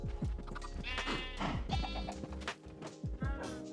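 Sheep in the video game Minecraft bleat several times in quick succession, loud and close, with a faint thud of movement between calls.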